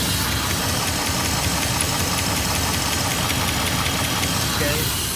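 A 4.7L engine idling with a knocking noise from the top end, a dense, close mechanical clatter of rapid ticking and knocks over a steady engine drone, continuous throughout.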